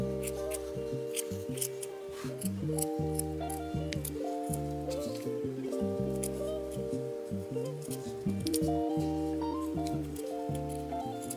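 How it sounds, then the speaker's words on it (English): Micro-tip scissors snip felt for amigurumi eyes, a series of small crisp cuts scattered through the passage, sitting under steady tonal background music with no voices. "I use the micro tip to really refine the edges and try to cut off any fraying ends of the felt"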